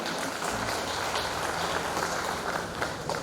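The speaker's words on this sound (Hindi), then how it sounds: "फिर से आप सभी उन दोनों के लिए एक बार जोरदार से तालियां मार दीजिएगा।" An audience at a youth and women's wing Bible seminar claps loudly and steadily, a thick sustained wash of applause with a few stray voices beneath it.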